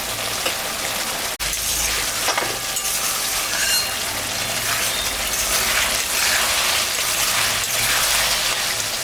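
Raw banana kofta curry fries in a pan, giving a dense, continuous sizzle close by with a soft rain-like hiss. One brief knock interrupts it early on, and no one speaks.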